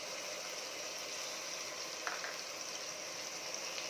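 Ground spice paste tipped into a pan of frying kechki fish, a soft steady sizzle with a brief sharp hiss as the paste lands, fairly quiet and without any talking.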